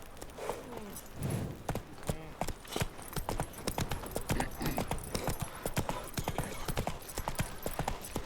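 Steady horse hooves clip-clop at a walking pace in The Witcher 3: Wild Hunt, a close and even rhythm over a constant ambient bed with no talk.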